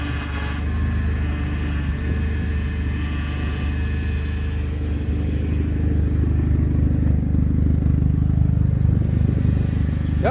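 A turbocharged Chrysler PT Cruiser GT engine runs rough nearby, a continuous uneven low rumble with faint clatter that grows somewhat louder midway through.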